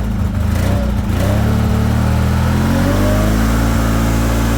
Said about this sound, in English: Listen to that lovely V-twin. Gorgeous, gorgeous. And we'll just put the old revs up a little bit on it.